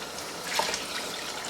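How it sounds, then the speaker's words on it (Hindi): Water, tinted from a jug previously used to grind almonds, is poured into a cooking pot for a masala gosht, giving a short, steady splashing rush with a faint brighter trickle midway, heard alone. "अब आप इसमें ऐड करेंगे जो कि पानी है।"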